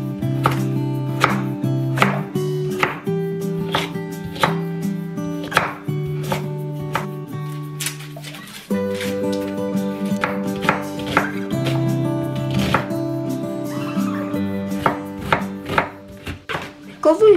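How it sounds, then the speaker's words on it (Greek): A knife chops pumpkin, carrots, leeks, onion and potatoes on a board in quick, regular close thuds, pausing briefly midway, over soft background music without any talking. "Κόβω λοιπόν την κολοκύθα σε κυβάκια, τα καρότα, τρία πράσα και ένα μεγάλο κρεμμύδι και πατάτες"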